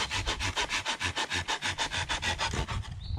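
Hand saw cutting through a piece of firewood for a campfire, fast regular back-and-forth rasping strokes, loud and close, ending abruptly as the cut finishes, with no talking.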